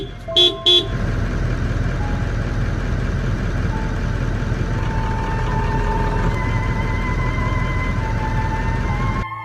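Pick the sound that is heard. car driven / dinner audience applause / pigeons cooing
car driven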